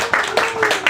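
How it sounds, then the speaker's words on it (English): Applause at an open mic night in New York City: a few sharp, evenly spaced claps rising over a steady tone, close and fairly loud, heard for about a second. "Give yourself a big round of applause for coming out to New York City."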